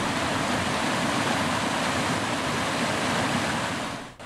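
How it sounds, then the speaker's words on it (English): Steady, dense rush of a small waterfall on a creek, a continuous broadband roar close by with no pauses. "It spans a charming little waterfall"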